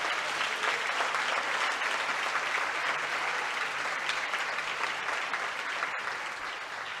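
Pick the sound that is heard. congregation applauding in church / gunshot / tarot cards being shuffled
congregation applauding in church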